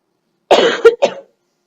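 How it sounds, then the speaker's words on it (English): Two or three harsh coughs in quick succession, close and loud, followed by silence. "I'm just coughing still."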